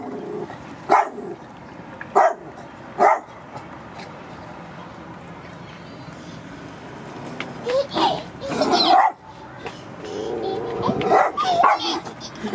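A pet dog barks in sharp repeated bursts indoors, loud and close, with a child's and adults' voices talking in between.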